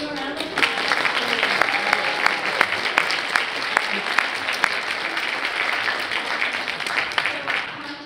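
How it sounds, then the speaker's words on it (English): An audience at a keynote during the CMU International Film Festival's Asian-made short films event gives a sustained round of applause for Hanjin Park, thick and close, with sharp individual claps popping out of the continuous roar. "We can give him a round of applause."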